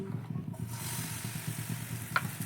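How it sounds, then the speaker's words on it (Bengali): Batter poured into an oiled frying pan over medium heat, a steady close sizzle with soft crackling and a light scraping stir, fairly quiet and continuous with one brief clink near the end. "মিডিয়াম গরম থাকা অবস্থায় এবার দিয়ে দিব কিছুটা পরিমাণ ব্যাটার"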